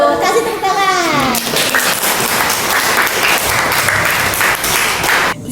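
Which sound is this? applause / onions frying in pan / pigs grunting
applause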